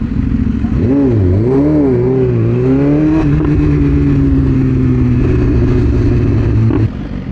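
BMW S1000RR superbike engine revving up and down in sweeping pitch swings, then holding a steady loud drone at a fuel station, close and continuous.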